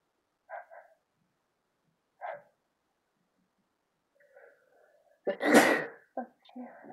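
Sneezing induced with chhinkni snuff: a couple of small sniffs and a short catch, then one loud, forceful sneeze burst near the end, followed by brief breathy sounds, close and otherwise quiet.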